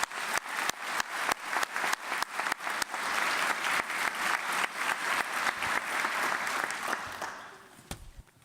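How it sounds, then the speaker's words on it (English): Sustained audience applause at a police department awards ceremony honoring chaplains, starting with sharp separate claps that swell into a dense, steady round before fading near the end. "if you guys would help me recognize them with a round of applause"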